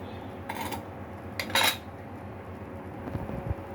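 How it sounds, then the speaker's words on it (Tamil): Metal pots and utensils clink and clatter while melted jaggery is strained from one pot into another, with a few sharp bright knocks over a steady low kitchen background and no talk. "இன்னொரு பாத்திரத்தில் வடிகட்டிக்கலாம்."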